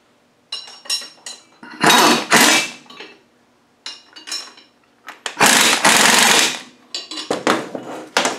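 Bursts of an impact wrench or power tool tighten bolts on a bearing puller during Rover differential bearing removal, loud whirring rattles in several separate spurts with short pauses between.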